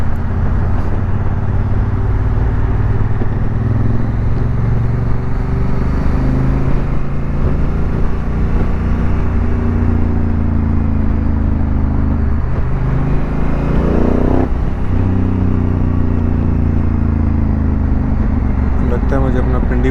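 A traffic jam on a road in Riyadh produces a constant, loud low rumble of idling and slowly moving engines, heard from close by for the whole stretch.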